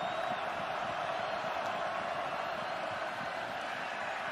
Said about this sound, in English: you think that this crowd here at Condensed Stadium is fired up